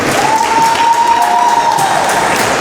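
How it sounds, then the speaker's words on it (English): Applause from the audience after a junior high senior boys basketball championship final, heard as a loud, steady wash of clapping and crowd noise that lasts the whole stretch, with a thin sustained tone running through it. "Please give another round of applause for both teams and their great play in the championship final."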